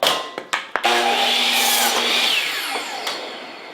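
A power saw cuts wooden miniature railroad ties. A few quick knocks come first, then a sustained whining cut through the wood that fades out, with another brief tap near the end.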